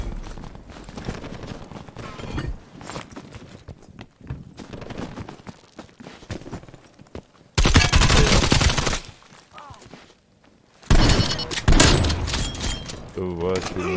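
Gunfire in Call of Duty Black Ops Cold War with an AK-74U comes in loud bursts of rapid automatic shots between quieter stretches, close and punchy, with a player talking over parts of it.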